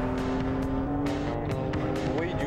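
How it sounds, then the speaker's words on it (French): A BMW Z4 M engine revving at high rpm, about 8000, while driving fast: a continuous loud, steady mechanical howl with strong harmonics and brief shifts in pitch, close and unbroken. "Bruit du moteur, c'est exceptionnel."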